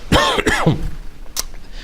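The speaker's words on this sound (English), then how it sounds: "just heard me cough into a microphone" A single sharp cough followed by a throat-clearing rasp, close to the microphone, then quiet room tone.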